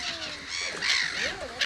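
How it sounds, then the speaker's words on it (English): Arctic terns near their nest giving harsh, raspy alarm calls, a few overlapping grating cries at moderate distance over a low outdoor background. "the Arctic terns try to scare us away from their nest"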